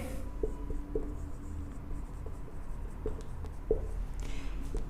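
Pen or marker writing on a board during a math lecture on parametric equations of surfaces, faint scratchy strokes and light taps in short bursts over a quiet room.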